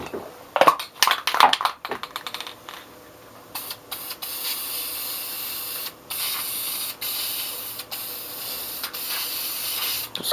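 A few sharp clattering knocks of handling come first, then Krylon brown spray paint hisses onto wooden Baltic birch letters in long steady bursts separated by brief pauses, close and loud.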